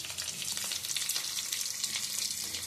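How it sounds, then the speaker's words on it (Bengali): Sea fish frying in a pan gives a steady, dense sizzle and crackle, close and continuous without pause. "বিকেলবেলা আমার আম্মু মাছ ভাজি করতেছে।"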